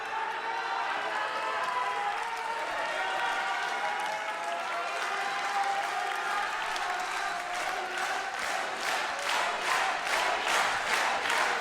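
Wrestling arena crowd at a GHC National Championship match roaring and cheering loudly and steadily, then breaking into a fast rhythmic clapping chant in the latter half, with no voices talking over it.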